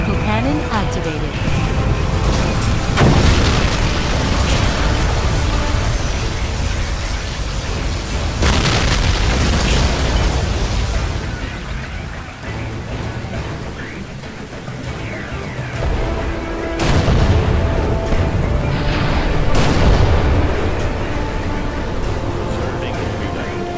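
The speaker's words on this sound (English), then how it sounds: "Particle cannon activated." Particle cannon blasts in C&C Generals Zero Hour during a NATO versus PLA tank battle: repeated loud booming explosions amid continuous battle noise, with voices over the mix.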